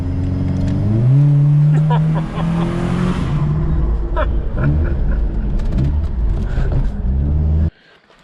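Turbocharged Suzuki Vitara engine revving hard under acceleration, a loud rising drone with shifting pitch through several gear changes, heard from inside the cabin with occasional talk, ending abruptly.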